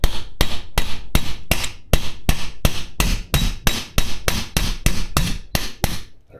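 A drift is hammered on a nut held in a vise while freeing a seized shaft on a Land Rover Discovery 300 TDI, giving about eighteen sharp metallic blows in a steady, fast rhythm, loud and close with no speech.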